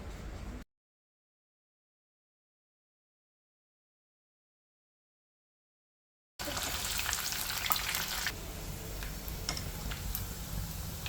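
A short burst of sizzling, then several seconds of silence before loud, crackling oil returns as chicken pieces fry close by for chicken pickle.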